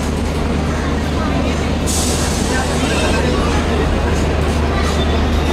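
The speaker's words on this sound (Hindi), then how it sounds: "we reached eight Tatanagar and platform number 2 पे आई है ये ट्रेन टाटानगर में" The Kalinga Utkal Express standing at platform 2 of Tatanagar station, a loud, steady roar of train and station noise with a brief hiss partway through and voices mixed into the din.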